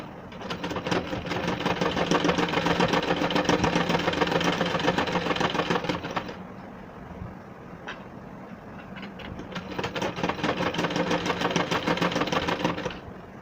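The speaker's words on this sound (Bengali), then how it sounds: "এই ধার থেকে আমরা সেলাইটা দিয়ে নেব" A sewing machine stitches a zipper onto a frock in two long, rapid bursts of needle clatter and motor whir, close and fairly loud, with a brief quieter pause between them.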